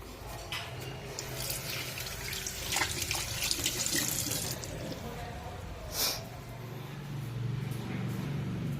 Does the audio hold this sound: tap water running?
yes